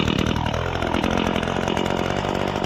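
A petrol grass-cutting machine's engine runs loud and close after a choke start, a steady buzzing drone with a rough rattling texture throughout.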